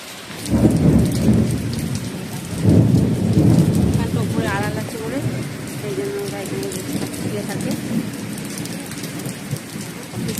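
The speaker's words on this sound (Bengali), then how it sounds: "এখন ঝাপঝাম করে বৃষ্টি আর তেমনি বাজ করছে" Heavy monsoon rain pours steadily with deep rumbles of thunder rolling through, while voices talk faintly underneath; water pooling and a papaya tree breaking in the storm.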